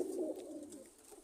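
Pure golden pigeon at a loft in Multan, cooing softly in a short, low rolling call, fairly faint and heard alone.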